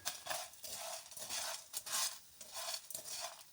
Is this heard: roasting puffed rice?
yes